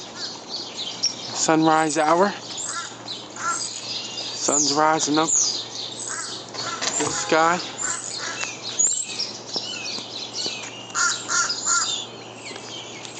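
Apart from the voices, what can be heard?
crows cawing at sunrise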